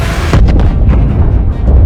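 Loud, close boom of a test torpedo warhead exploding, a deep rumbling blast with a few sharper cracks that keeps rolling for the full two seconds.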